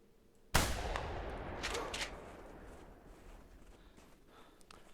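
A sudden loud blast near a snowshoe hare in the hunting game theHunter Classic, a sharp single boom followed by a rumbling tail that slowly fades over several seconds.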